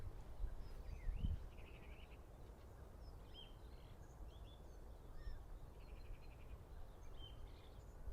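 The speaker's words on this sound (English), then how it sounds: "You could really hear the birds tweeting away" Small birds chirp and tweet at a distance on a quiet winter morning outdoors, with scattered short calls over low background hiss and a soft thump near the start.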